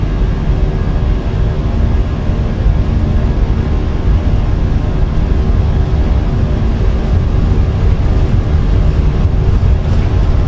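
Airbus A320 jet engines spooling at takeoff power during a departure roll from Washington National in a flight simulator, a steady, loud broadband roar with deep rumble that holds constant throughout.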